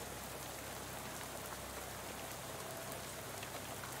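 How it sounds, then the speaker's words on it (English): Steady rain pours down in the game Shadows Over Loathing, a continuous even hiss with no talk over it. "Oh, now it's raining."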